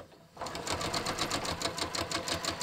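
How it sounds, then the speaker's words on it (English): A sewing machine starting up and stitching along a half inch line over a quilting clip, a steady rapid mechanical chatter with a regular needle rhythm, close and continuous after a brief quiet start. "Well, first we'll stitch along the half inch line."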